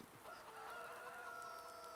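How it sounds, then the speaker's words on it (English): A rooster crows in the video game No Man's Land, one long drawn-out call that holds and wavers for about two seconds, faint and heard alone. "So I got 2 roosters there."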